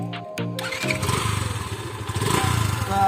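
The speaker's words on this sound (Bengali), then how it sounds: "এখন আমরা এই বাইকটা স্টার্ট দিব এবং এই বাইকটার সাউন্ডটা আমরা আপনাদের শোনাবো" A new Yamaha FZ-S V2 motorcycle in neutral cranks with two short starter bursts, then catches and settles into a loud, close, pulsing idle.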